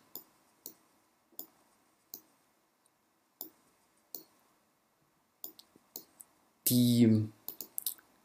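Computer mouse clicking while working in Cinema 4D software: a sparse series of sharp single clicks spread over several seconds, close and crisp, with a brief spoken word near the end.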